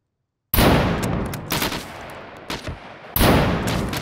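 Gunfire in the survival video game Scum: a sudden loud burst of rapid shots that rattles on for over two seconds with a few sharp cracks, then stops briefly before another loud volley erupts.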